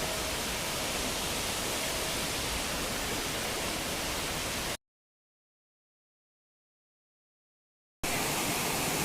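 Benki Falls in the rainy season: a waterfall's dense, steady broadband roar, loud and close. It cuts out abruptly to silence for about three seconds, then resumes, with no voices.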